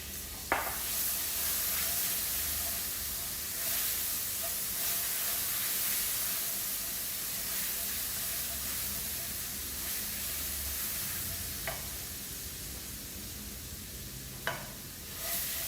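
Bolognese ingredients sautéing in a pan with salt and ground pepper, a steady close sizzle with a few brief clinks and stirring knocks, no talking.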